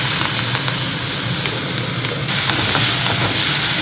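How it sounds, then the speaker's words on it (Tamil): Mustard seeds, urad dal and asafoetida tempering in hot oil for a spinach dish, a loud, steady sizzle and crackle running the whole time, growing a little brighter partway through, with no talking. "எண்ணெய் விட்டுண்டு கடுகு, உளுத்தம்பருப்பு, அப்புறம் பெருங்காயம்"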